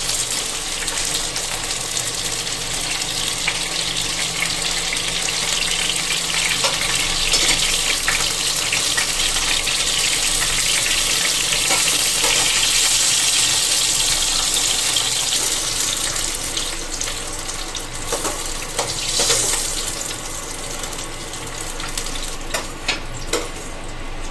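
Potatoes fry in a pan for aloo shimla mirch, giving a steady, close hiss with faint crackles and occasional stirring clinks throughout.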